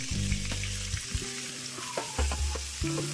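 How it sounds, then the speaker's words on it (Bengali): Chopped onions dropped into hot white oil and two spoons of ghee in a wok, frying with a steady close sizzle while a spatula scrapes and knocks against the pan, no speech. "আচ্ছা, পেঁয়াজ কুচি দিয়ে দিচ্ছি"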